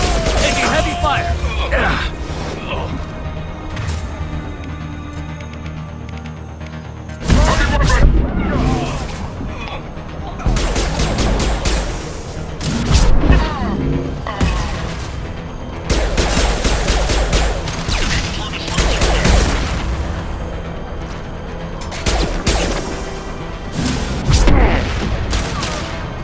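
Heavy gunfire and booming explosions in a video game battle, with loud sustained bursts and repeated blasts across the whole stretch. Voices shout briefly now and then.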